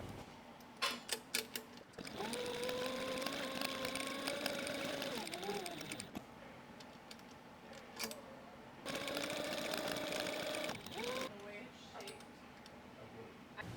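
Sewing machine running top stitches through waxed canvas for a log carrier, a steady mechanical whir in two long bursts separated by short pauses and a few clicks, close and fairly loud.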